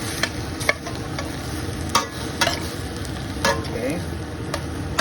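Spinach and lentils stirred in a sizzling pot, with several sharp scraping strokes of a spoon against the pot over a continuous frying hiss.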